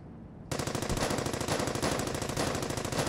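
A machine gun in the World War II shooter Brothers in Arms: Hell's Highway opens up after a short quiet moment and keeps firing in a loud, continuous rattle of rapid shots for about three seconds, with no talking.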